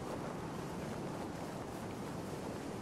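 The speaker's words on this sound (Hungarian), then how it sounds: "Hát, kicsit nagy a szél." Steady, loud wind roars throughout the Jedi temple area in Star Wars Jedi Fallen Order, a broad continuous rush with no talk over it.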